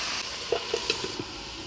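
Pumpkin leaves sizzle loudly in a hot pan while a spatula stirs them in a few distinct strokes over a constant frying hiss, close up and without talk.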